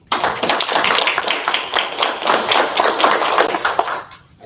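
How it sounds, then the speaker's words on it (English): Audience applause at a school board meeting: a dense, steady burst of many hands clapping close by for about four seconds before quickly tapering off, with no talk over it. "Give him a round of applause."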